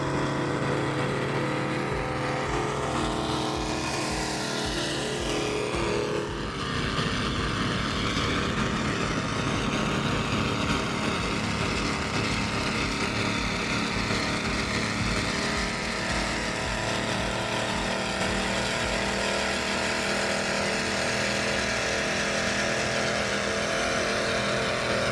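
Loud, continuous engine roar from racing powerboats on a poker run in Tampa Bay, with a rising whine early on, sustained throughout with no talking.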